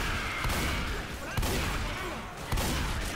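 Three sharp gunshots in a zombie video game crack at roughly one-second intervals over a constant background rumble, fairly distant.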